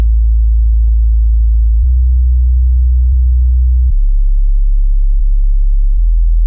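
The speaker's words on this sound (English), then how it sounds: "I just really love this sub because it has like a really nice deep kind of sound when it goes really low." A deep sub bass in a 2000s R&B-style beat, a loud, smooth, sustained low tone that steps between a few pitches, with faint soft ticks on top.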